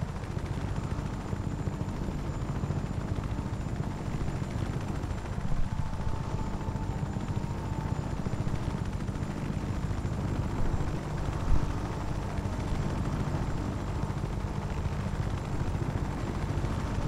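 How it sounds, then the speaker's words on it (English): A hefty helicopter in Just Cause 3 produces a constant, dense rotor and engine roar that fills the whole stretch at steady volume, with no clear breaks. "This is a more of a hefty kind of helicopter now."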